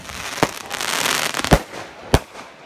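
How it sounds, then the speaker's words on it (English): Fireworks bursting outdoors on a windy night, with three sharp, loud booms spread across a steady rush of wind and crackle. "all the fireworks are shooting up"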